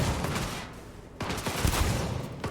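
Rapid gunfire bursts crackle in the Cyberpunk video game, dense and loud, with a short lull near the middle before the shooting resumes; no voices are heard.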